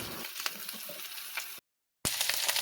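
Egg frying with tomato in a pan, a soft steady sizzle with a few light crackles, briefly cut to silence before the sizzling resumes.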